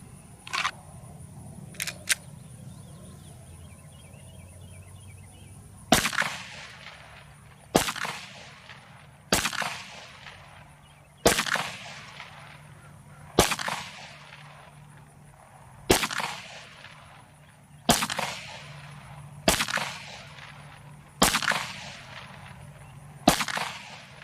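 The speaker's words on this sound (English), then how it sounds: "I'm going to fire some slow fire rounds at the target just to test accuracy and to see how fast the gun resettles" Slow, evenly spaced shots from a Sig P320 Spectre Comp pistol at an outdoor range: about ten sharp, loud cracks roughly two seconds apart, each trailing off in a short echo, after a few lighter clicks at the start.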